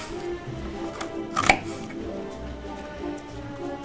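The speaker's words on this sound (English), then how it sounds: "We're gonna chop up a couple onions here." A knife chops a couple of onions on a cutting board in a home kitchen, with one sharp, fairly loud chop standing out against a quiet, steady room background.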